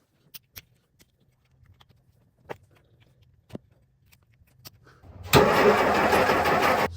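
A 1950 Plymouth engine being cranked: a few faint clicks and taps, then a loud, steady, churning starter rumble kicks in about two-thirds through and carries on to the end, close by.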